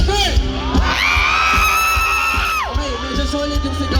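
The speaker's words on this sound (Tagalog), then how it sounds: "Okay, medyo solid yung sigaw ng Davao" A festival crowd in Davao shouts together on cue, a loud, sustained mass yell lasting a couple of seconds, framed by a host's amplified voice and scattered cheers and whoops before and after.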